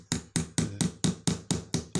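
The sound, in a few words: hammering with a hammer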